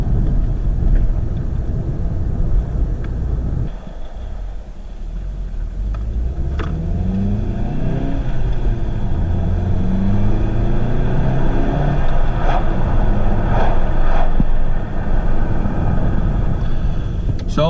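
Volkswagen Golf GTI engine accelerates while driving, a steady close cabin rumble with rising and falling revs through gear changes, under a low hum of road noise.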